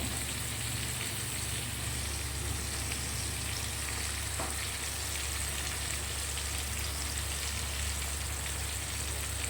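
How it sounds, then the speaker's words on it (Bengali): Fish oil and fish roe, seasoned with turmeric and salt, fry in a pan with a dense, steady sizzle throughout, close and continuous with no talking. "অনেকটাই ভাজা হয়ে যাচ্ছে।"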